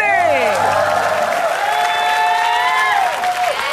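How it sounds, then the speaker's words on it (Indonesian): A studio audience applauding at an Indonesian TV game show, steady close clapping that continues throughout, with a loud synthesized musical sting sweeping over it and no talking. "Sekali lagi tepuk tangan untuk kita hari ini."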